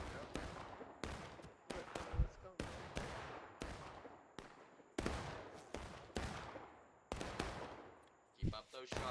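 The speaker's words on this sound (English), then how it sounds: "Keep up those shots. Shoot that flag, boys. Keep shooting. Keep covering fire." Rapid gunfire in a large War of Rights video game battle on the School House Ridge map, with sharp rifle shots cracking out repeatedly at an irregular, near-constant pace and a few louder close blasts.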